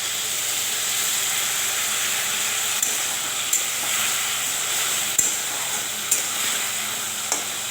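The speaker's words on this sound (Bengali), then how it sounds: "সামান্য একটু জল দিয়ে দিব।" Water splashes into a hot pan of cooking kochu loti, taro stolons, and sets off a steady, loud sizzling hiss. A few faint utensil clicks and scrapes sound over it, with no talking.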